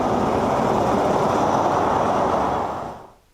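A Lagos Red Line train at the Ikeja terminal gives a loud, steady rumble and roar of rail movement up close, holding for a few seconds before quickly fading out, with no voices.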